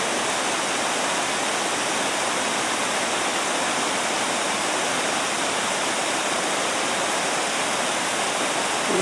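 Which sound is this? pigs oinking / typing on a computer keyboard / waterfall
waterfall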